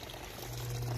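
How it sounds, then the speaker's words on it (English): An aquaponics system waterfall pours water directly into an underground outlet, making a steady, close rushing splash with a low gurgling rumble that grows slightly louder across the brief moment, with no speech. "this waterfall is going directly into an underground outlet"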